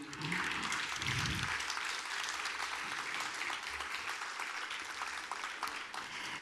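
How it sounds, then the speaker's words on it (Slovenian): An audience applauds at a folk song-and-dance event marking an anniversary, a steady, dense wash of many hands clapping for several seconds, heard from a slight distance with a low voice murmuring at the start. "Pa en aplavz za 10-letnico dela."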